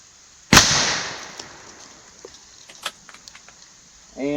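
A single loud, sharp shot from an Airforce Texan .457 air rifle hits a pumpkin, followed by a decaying rumble and scattered small thuds and rattles of debris, then a burst of nearby noise at the end.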